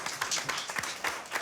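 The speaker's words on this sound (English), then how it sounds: "Clap if you think she should find another man." A studio audience claps briefly, a short scattered burst of applause at a modest distance on a talk show.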